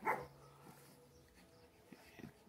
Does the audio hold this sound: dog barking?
yes